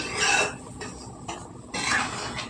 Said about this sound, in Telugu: కొద్దిగా దగ్గర పడేలాగా కలుపుకుంటాను